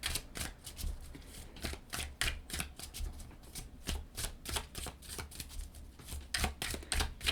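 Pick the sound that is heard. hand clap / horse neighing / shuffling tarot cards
shuffling tarot cards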